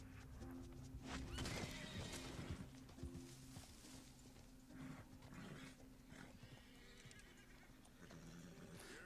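Horse in the video game Red Dead Redemption 2, a black snowflake Appaloosa, whinnying and neighing in repeated calls over faint hoof clip-clop and ambient wildlife, moderately near and without talk.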